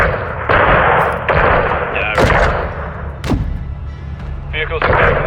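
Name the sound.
small arms gunfire in Call of Duty Modern Warfare 2 video game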